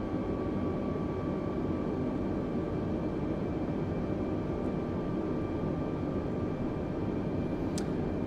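An Airbus A320 airliner descends toward landing in Microsoft Flight Simulator, its engines and airflow making a steady, loud cockpit drone with faint tonal whines that barely changes throughout.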